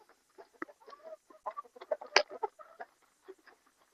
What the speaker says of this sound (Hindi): वो जो मेरी मुर्गियां देखो कितने चाव से खा रही हैं।